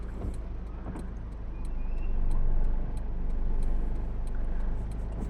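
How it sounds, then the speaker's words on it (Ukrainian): A car pulls away and reverses on a snowy winter driving-test course, its engine hum rising and falling steadily at close range with faint clicks. "Вмикаємо аварійку, задній хід і, Так. і поїхали. Рушаємо."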